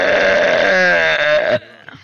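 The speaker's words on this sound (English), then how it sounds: "That burp's for you, buddy." A long, loud, drawn-out burp with a wavering, bleat-like pitch lasting well over a second, ending abruptly, followed by a brief faint sound.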